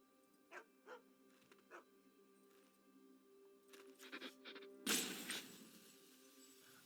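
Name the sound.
dog barking in the MTG Arena video game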